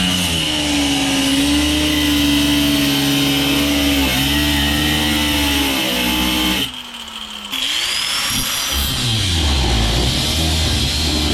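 A power grinder runs inside the cab of a 1988 pickup with carpet still in place, a loud, sustained whine that dips under load, stops briefly, then spins back up.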